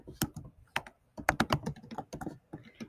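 Fingers type on a computer keyboard, a quiet, close run of uneven clicking keystrokes with a short pause partway through.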